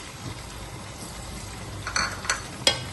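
Ginger garlic paste and crushed green chilli hitting hot oil with cumin, cardamom and cinnamon for chana pulao, a soft steady sizzle followed by a few sharp spatters and stirring scrapes, no voices.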